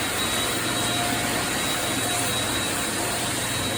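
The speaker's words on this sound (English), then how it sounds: "You see, he's using the shop vac, industrial shop vac." An industrial shop vac runs nonstop during floor strip and wax work, giving a loud, even roaring hiss with no pauses.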